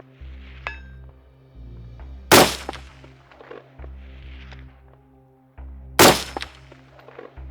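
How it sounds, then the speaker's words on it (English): Two sharp, loud reports from a Springfield SOCOM 16 CQB rifle, an M-14 variant, fired several seconds apart, each a crisp crack with a short ringing tail, over a low steady hum. "We'll go ahead and we'll keep taking some shots here."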